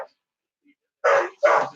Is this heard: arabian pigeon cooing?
no